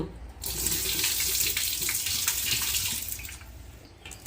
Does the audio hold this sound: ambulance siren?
no